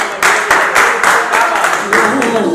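Loud bursts of audience clapping at a Chhattisgarhi talk show with Garima Diwakar and Yogesh Yadav, coming in several surging waves with voices mixed in.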